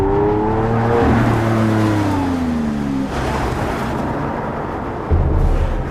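A Lamborghini Aventador supercar engine drones loudly with smooth tonal revs that glide down, then settle into a steady roar before a deeper surge near the end.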